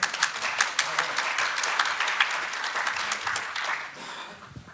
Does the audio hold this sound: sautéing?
no